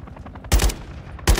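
Video game gunfire from Call of Duty: Modern Warfare III, two loud close bursts of shots over a quieter game background.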